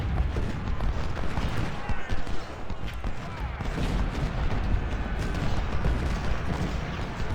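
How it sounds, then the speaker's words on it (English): Cannon and artillery fire from a Civil War battle near Halls Ferry Road, Vicksburg, in Ultimate General: Civil War, a continuous rumbling barrage of distant booms with no clear gaps. "these guys are going to come under a lot of artillery fire up here"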